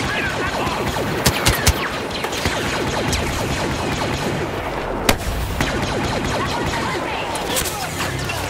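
Dense blaster fire from a Star Wars Battlefront (2015) battle, rapid overlapping shots and crackling bursts running continuously at moderate loudness, with a sharp louder crack near the middle and voices talking over it.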